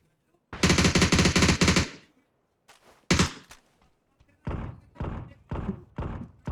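Nearby automatic gunfire in the video game PUBG: a rapid loud burst, then a single sharp shot, followed by several spaced heavy shots, with no talking.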